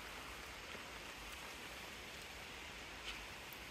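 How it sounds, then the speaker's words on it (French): Steady rain falls on a sheltering roof beside Laotian rice paddies in the 4000 Islands area, a continuous close hiss with scattered patters and a single louder drip. "Il pleut pas trop puisqu'on est abrité."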